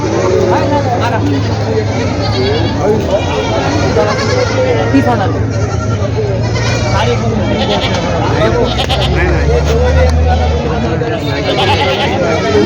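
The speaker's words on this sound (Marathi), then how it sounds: "शेळ्या पाहू शकता मित्रांनो गावरान शेळ्या आहे" Native village goats bleat repeatedly at a busy weekly goat market in Vasmat, their cries rising over constant crowd chatter and someone talking close by.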